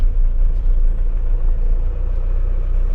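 A 14-foot goods truck on a road in Goa gives off a steady, close, heavy engine rumble with no break and no voices.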